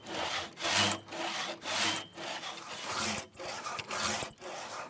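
Traditional hand saw cutting through a wooden beam resting on a sawhorse, rhythmic rasping push-pull strokes about one per second, close and loud with short pauses between strokes.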